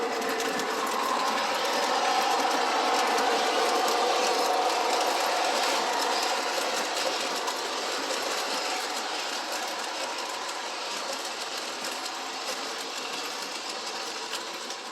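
A small train rattles steadily along its track, a continuous whirring clatter with fine rapid clicks, holding close and even throughout without voices.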